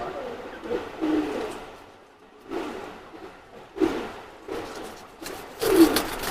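Several short bursts of low cooing from teddy pigeons, among them a hen, come in uneven spurts close by, mixed with brief fluttering swishes and quiet gaps.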